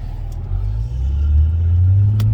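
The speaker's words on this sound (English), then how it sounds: "I'm gonna do a first gear launch here for you folks." A Porsche 986 Boxster engine in a first-gear launch sounds as a loud, close, sustained low rumble, with its pitch climbing steadily as the revs build through first gear.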